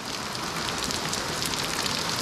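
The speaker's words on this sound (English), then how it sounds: "small hail, but whew" Small hail pelts down outside an auto repair shop, a steady dense hiss and patter of tiny hard impacts, continuous and fairly loud throughout with no voices.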